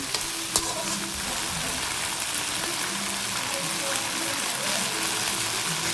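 Bottle gourd and sardines sautéing in a pan, a dense, even sizzle that runs close and loud throughout, with occasional faint clicks of a utensil.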